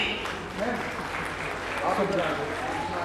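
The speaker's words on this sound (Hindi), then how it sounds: "कामिनी मैडम का तालियों से स्वागत कीजिए" Modest clapping from an audience at a Meerut dance championship welcoming a judge, soft and fairly even, with an announcer's voice and some singing over it.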